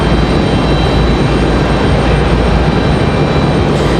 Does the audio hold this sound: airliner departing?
yes